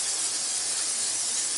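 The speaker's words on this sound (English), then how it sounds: "And then I spray the top of them." A steady hiss of cooking spray coats the tops of frozen Pillsbury biscuits in a pan, one short continuous spray heard up close.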